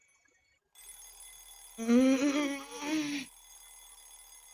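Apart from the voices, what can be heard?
alarm clock ringing in a video game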